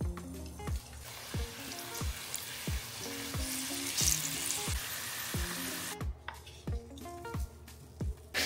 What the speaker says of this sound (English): dry them, and then flash fry them.